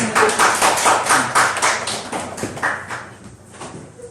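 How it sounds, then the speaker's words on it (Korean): A lecture audience bursts into brisk clapping that starts loud and full, then thins out and fades over a few seconds. "박수."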